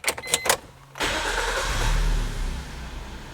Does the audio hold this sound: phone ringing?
no